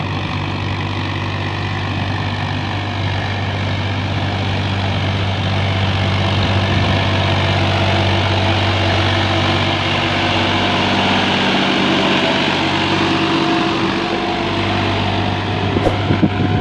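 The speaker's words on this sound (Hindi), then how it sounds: "मैसी फॉर्ग्यूसन 7250 DI है दोस्तों, फुल लोडिंग ट्रॉली में है।" Massey Ferguson 7250 DI tractor hauling a fully loaded trolley, its diesel engine a loud, close, continuous low droning rumble that holds steady throughout.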